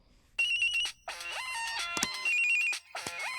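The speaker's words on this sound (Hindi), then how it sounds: "पापा, किसी का फोन आया है।" A phone rings with a bright electronic melodic ringtone, bursts of tones and chirps repeating in short phrases with brief gaps, clear and fairly close in a quiet room.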